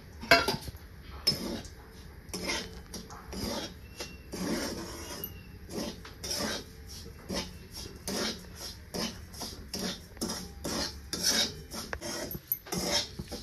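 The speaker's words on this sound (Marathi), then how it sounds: "बघा ही आपल्याला छान असं लाल होईपर्यंत भाजून घ्यायचं आहे" Poha powder roasting in ghee in a pan, stirred with a utensil, giving repeated scraping and rasping strokes in an uneven rhythm, close and moderately loud.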